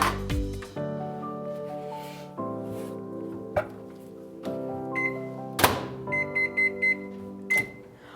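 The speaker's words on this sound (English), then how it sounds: "So you wanna just nuke them on high power for about 4 minutes on each side." A microwave oven set to high power while cooking potatoes, with a steady low hum broken by thunks, clicks and a run of short high beeps near the end.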